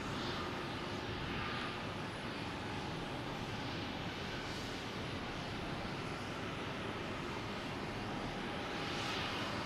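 JetBlue airliner at Boston Logan Airport, giving a continuous, fairly faint broadband engine rumble and hiss that holds steady for nearly ten seconds, with no talk.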